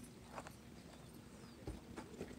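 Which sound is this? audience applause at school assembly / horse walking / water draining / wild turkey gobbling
horse walking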